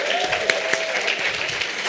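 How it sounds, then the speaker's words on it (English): Audience at a women-in-tech meetup in Johannesburg applauds a standing group, steady dense clapping with a few sharper claps and some voices mixed in. "can we please give them a round of applause?"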